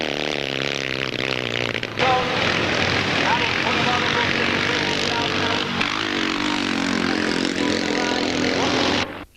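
Triumph Metisse scramble motorcycles race at a classic scrambles meeting, engines roaring loud and continuous with rising and falling revs as bikes pass, while a commentator talks over the noise.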